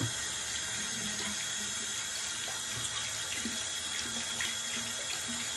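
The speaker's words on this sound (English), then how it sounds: "I just saturate it under the faucet here." Water runs steadily from a faucet into a sink as a shaving brush is soaked under it, a continuous close hiss and splash with no voices.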